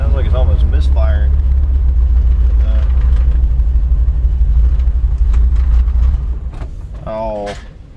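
A 1980 second-generation Chevrolet Camaro engine runs rough while driving, a loud low rumble inside the car that stumbles as if nearly misfiring, then eases off; someone speaks briefly.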